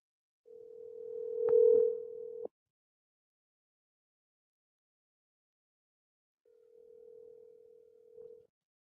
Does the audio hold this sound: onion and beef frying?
no